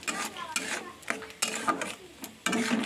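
Cauliflower, beans, green chilli, carrot and peas frying in a pan for dal, stirred with a utensil in repeated scraping strokes over a soft sizzle, close, with no talk.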